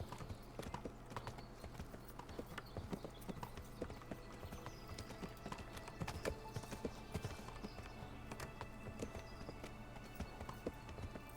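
In the medieval video game Kingdom Come: Deliverance, horse hooves clip-clop steadily as the horse is ridden, a continuous even rhythm of hoof strikes at moderate volume heard alone without speech.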